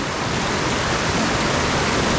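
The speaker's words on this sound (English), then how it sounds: "The rapids are really making a racket today." River rapids at about 6.5 feet rush loudly and continuously at Ohiopyle in January, a dense, steady roar of churning whitewater close by with no voices.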